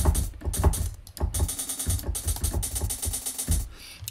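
A crisp, noisy hi-hat sample repeats in a quick looping pattern inside a synthesizer, with bright bursts cycling continuously.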